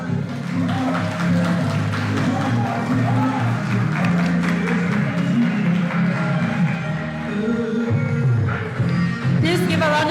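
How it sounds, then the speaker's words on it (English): A crowd at a Mr & Ms Madang pageant introduction night applauds and cheers loudly, with whoops and shouts over sustained clapping while amplified music plays along in the hall. "Please give a round of applause for Mr. and Miss Madang Resort."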